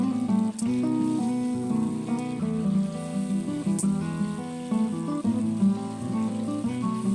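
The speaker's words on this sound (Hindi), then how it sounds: "देखिए मैं इसको इतनी देर पकाऊंगी जब तक कि भून जाएगी ना अच्छी तरह" Garlic chutney frying in ghee in a pan, a soft steady sizzle and patter running throughout under background music, with no voices.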